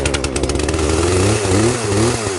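Poulan Pro chainsaw engine running on a cold, snowy day, loud and close with a rough, uneven idle that rises and dips as it warms up, with no talk over it.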